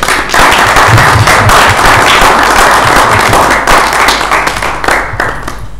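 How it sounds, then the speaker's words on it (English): Audience at an international business conference applauding loudly, a dense, continuous roar of many hands clapping that holds steady for several seconds without any speech. "So give them a round of applause."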